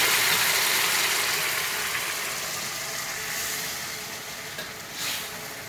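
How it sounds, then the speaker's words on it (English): Claypot tofu with salted fish and diced chicken hitting a hot clay pot, a loud, steady sizzle that fills the whole stretch, easing slightly toward the end with a small bump near the close. "Watch that sizzle when it goes in."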